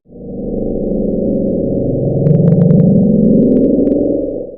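A loud, rumbling low drone recorded by a hydrophone in the ocean swells and sustains for several seconds, with faint clicking pulses briefly ticking above it midway, murky and underwater-like.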